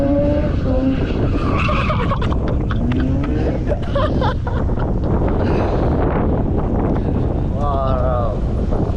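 A Mazda RX-8 drives hard and skids, with tyre squeal and engine roar under heavy wind buffeting on the microphone, loud and constant, while voices shout over it.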